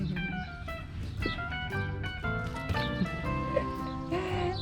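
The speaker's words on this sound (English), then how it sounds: "Chickens are doing fine." Chickens cluck and call in a backyard coop, with a steady run of overlapping, close clucks and short squawks throughout.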